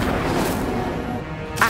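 Incendio fire spell cast in Hogwarts Legacy, a steady dense whooshing roar lasting over a second with a sharper burst at the end, heard alone.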